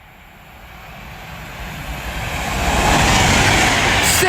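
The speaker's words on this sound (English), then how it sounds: "Another Pendolino about to speed through now." Pendolino train rushing through Lichfield Trent Valley station, a close rising roar that swells from moderate to loud over a few seconds with broad wind and wheel noise, no talking.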